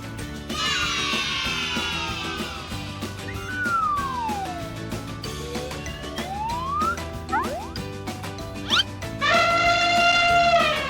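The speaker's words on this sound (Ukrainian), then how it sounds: "Це слон." A loud, brassy elephant trumpet blares for about two seconds at the end, following light background music with swooping tones.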